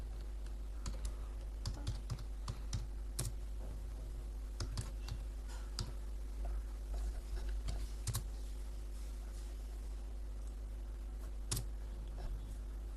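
Someone types steadily on a computer keyboard at a Windows 10 PC, with irregular runs of close key clicks and a few louder taps over a low constant hum and no talking.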